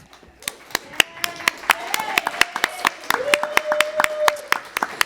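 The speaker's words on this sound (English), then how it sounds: "I want to give a big round of applause to Jane herself." Scattered, sharp hand claps from a small audience at an entrepreneur accelerator final presentation, spaced irregular claps rather than dense applause, with a faint tonal hum and some voices underneath.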